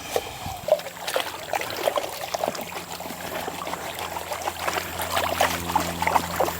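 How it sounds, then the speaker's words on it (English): River gravel washes in a gold pan in shallow water, giving soft close sloshing and trickling with small gravel rattles and irregular splashes. "so we'll pan that down"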